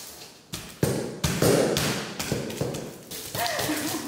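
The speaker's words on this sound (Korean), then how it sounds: "가운데 쿵 세게 찍어주시면 돼요" A pastry mold pressed hard into dough at a baking class gives repeated dull thumps, roughly six or seven knocks at an irregular pace, close by with soft background chatter.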